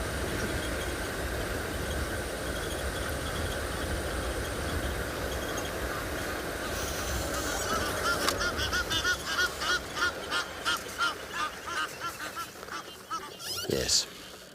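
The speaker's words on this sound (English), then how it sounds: "when you have Egyptian geese that are making noise" Egyptian geese at a South African dam honk repeatedly in a rising chorus of harsh calls, growing louder toward the end over a steady outdoor background.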